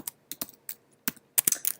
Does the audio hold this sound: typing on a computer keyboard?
yes